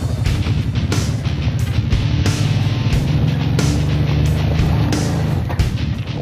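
A 2014 Kawasaki Brute Force 750 EPS ATV engine drones steadily and loud, close by, as it works to climb over a log, with brief knocks and scrapes punctuating the continuous motor rumble.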